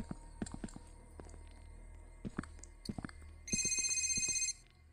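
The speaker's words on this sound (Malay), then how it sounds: "Ada bunyi telefon." A telephone rings inside a Roblox horror game, a steady trilling ring lasting about a second near the end, preceded by scattered clicks and soft in-game thumps over a low background hum.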